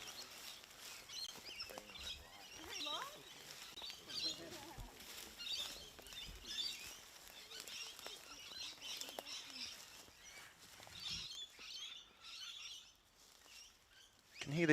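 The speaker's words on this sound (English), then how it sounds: "Can hear these birds really going at it." Outdoor birds chirp and tweet busily at a disc golf course, a continuous scatter of quick calls at moderate distance under soft ambient noise and occasional faint voices.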